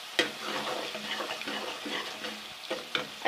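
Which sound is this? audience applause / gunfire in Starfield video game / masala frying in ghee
masala frying in ghee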